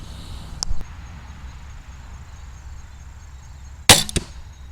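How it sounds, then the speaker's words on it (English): A Barnett Blackcat crossbow looses a bolt at 20 yards: a faint release click, then about three seconds of quiet outdoor ambience before a sharp, loud thwack as the arrow strikes the target, followed by a couple of rattling echoes. "Okay, let's shoot arrow number 2."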